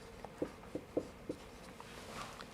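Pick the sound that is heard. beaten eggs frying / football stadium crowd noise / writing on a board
writing on a board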